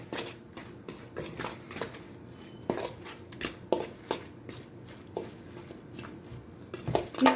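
Cucumber kimchi with sliced chili being tossed and mixed in a bowl, giving a run of close, wet squishing and soft clattering bursts in an uneven rhythm, with no voices.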